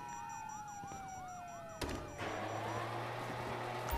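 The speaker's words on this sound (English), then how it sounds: "you hear that? Okay. Sirens." Wailing police sirens in GTA 5 rise and fall at a distance, then a sudden thump and a louder steady electronic tone join in over a busy background.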